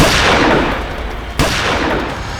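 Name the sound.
gunfire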